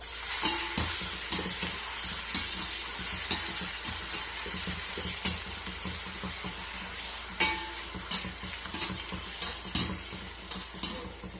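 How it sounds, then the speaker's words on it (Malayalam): Pappadam frying a few at a time in hot oil in a pan, a continuous bubbling sizzle punctuated by regular sharp clicks and taps of a utensil, no one speaking. "ഇനി നമുക്ക് പപ്പടം കുറേശ്ശെ ഇട്ടൊന്ന് വറുത്തെടുക്കാം"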